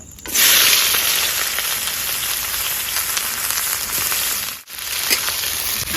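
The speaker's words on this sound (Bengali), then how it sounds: "পেঁয়াজটা ভালো লাল লাল ভাজা হয়ে গেছে" Onions sizzle in hot oil with whole cumin seeds and dried red chillies, a loud steady frying hiss that breaks off briefly once before resuming.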